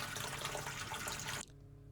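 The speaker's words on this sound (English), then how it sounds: "we need to flush the tanks" Water rushes steadily through the tanks of a project boat during flushing, a broad hiss that stops abruptly, leaving faint low hum.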